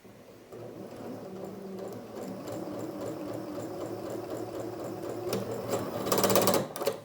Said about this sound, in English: I'm just going to sew it along the edge with the notches